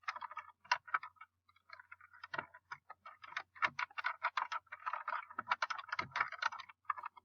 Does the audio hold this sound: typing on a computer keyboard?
yes